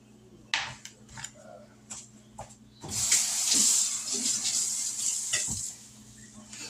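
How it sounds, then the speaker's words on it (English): Kitchen sink tap gushing steadily for several seconds while something is washed, after a few light clatters of dishes and utensils, close by with no talking. "Let me go and wash this."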